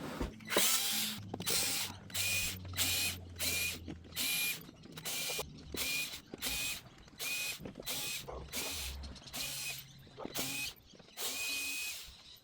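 Screws being undone from a Casio AP-28 digital piano with a power driver, giving a long series of whirring bursts with ratcheting clicks, each separated by short pauses, close and loud with no talking.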